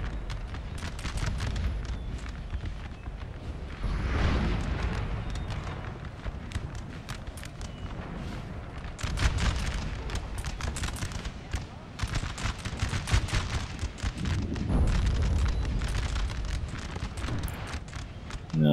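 Rocket fire and explosions in a Napoleon Total War battle ring out as repeated broadband booms and crackling volleys, swelling in bursts over a steady rumble of gunfire throughout.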